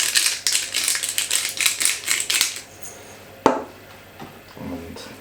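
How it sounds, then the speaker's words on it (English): A pepper grinder cranks out a rapid run of rasping, ratcheting bursts over raw lamb, close and fairly loud, followed by a sharp knock and quieter handling sounds. "Grind of pepper."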